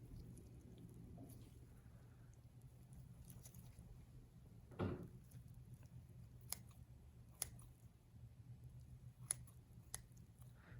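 Faint scissors snipping through soft tissue during a cat abdominal dissection, cutting into the duodenum, a few sharp clicks spaced a second or two apart over a low, steady background hum.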